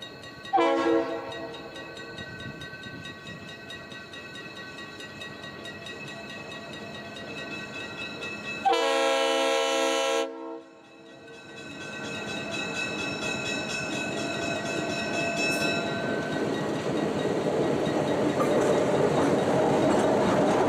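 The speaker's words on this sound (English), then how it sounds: "The train is seen here crossing Stringham Road in Melville, and then at Corey's Lane in Portsmouth." Newport Dinner Train rolling through the Stringham Road and Corey's Lane grade crossings in Melville and Portsmouth, its horn sounding in long sustained blasts near at hand, then fading into the rumble of passing railcars.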